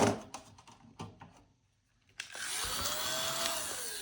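A small vacuum cleaner switches on after a few light knocks and a pause, its loud whine rising in pitch as it spins up, then holding a steady, close hum to the end.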